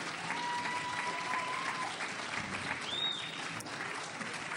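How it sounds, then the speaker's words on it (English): Audience applause at a magic club tribute show for a game show host's 100th birthday, a steady dense wash of clapping from a large crowd that holds level throughout, with no talk over it. "I really appreciate that applause."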